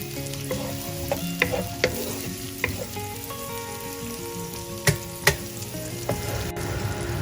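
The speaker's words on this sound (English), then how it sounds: "we're going to cook this in this oil till it gets discolored and slightly brown" Onions fry in oil in a pan on a stove set between medium and high heat, giving a steady close sizzle broken by a few sharp utensil scrapes and clinks as they are stirred.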